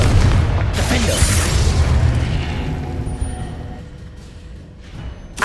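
A fire spell explosion in the video game Hogwarts Legacy: a loud, broad boom with a heavy low rumble that decays slowly over several seconds, with a sharp crackle near the start.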